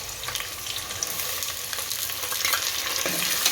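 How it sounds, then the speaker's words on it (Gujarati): Onion, carrot and peas stirred while frying in hot oil with potato and spices for Gujarati wagharela bhaat, a loud, continuous sizzle with scraping stir strokes running throughout. "અને હલાઈ નાખશું. અને તેલમાં સળવા દેશું થોડા."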